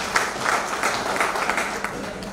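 An audience at a company gathering applauds its directors with a dense, steady patter of many hands that holds evenly for a couple of seconds, with a voice faintly underneath.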